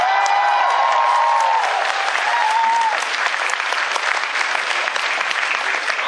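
Large convention audience at a Stan Lee panel breaking into loud, sustained applause mixed with cheering, a dense roar of clapping with brief tonal voices early on.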